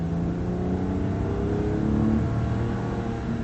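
2019 Lexus ES 350 with a V6 engine accelerating under throttle, a smooth, steady rising hum heard from inside the cabin, continuous and fairly loud with no talk.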